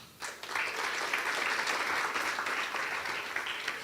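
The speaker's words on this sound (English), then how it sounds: "A round of applause, please." Audience applause at a book launch in the Kigali Public Library, a dense, steady burst of clapping from a crowd that starts suddenly and holds at a lively, even level throughout.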